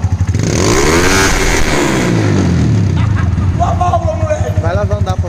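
A fuel-injected Honda Titan motorcycle with its rev limiter removed revs hard and close, the engine sweeping up and down in repeated loud bursts and ending in a rapid pulsing idle, with someone talking over it.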